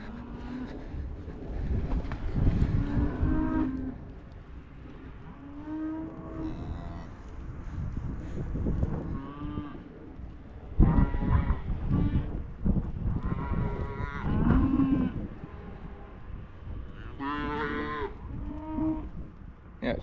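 Calves and cows moo over and over in a field during feeding, some calls near and loud, others farther off, overlapping irregularly against rustling outdoor ambience.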